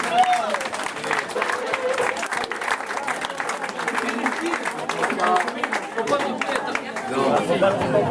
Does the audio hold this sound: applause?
yes